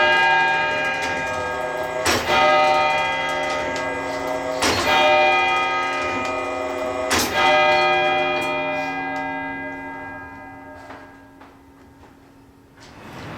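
A large bell in a courthouse tower in Rush County, Indiana, tolls three times at roughly two-and-a-half-second intervals, loud and close, each strike leaving a long ringing hum that slowly fades.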